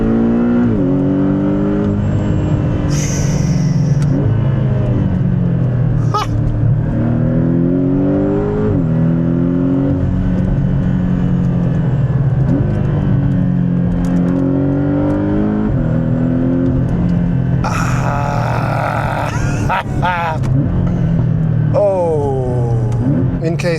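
A Porsche 718 Boxster GTS with a PDK gearbox is driven hard along a road. The flat-six engine rises and falls through repeated rev sweeps and quick gear changes, heard loud from inside the car while the driver talks over it.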